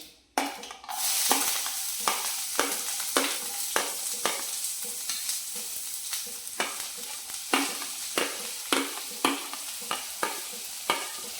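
Chopped onions and vegetables with curry leaves sizzle steadily in a pan while being lightly roasted for a semolina breakfast, with a long run of regular spatula scrapes and stirs over the frying hiss, close and clear.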